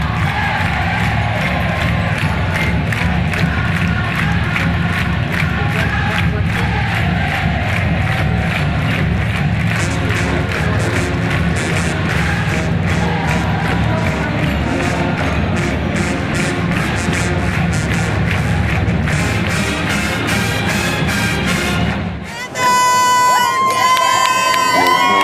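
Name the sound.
marching band pep music and cheering crowd at football game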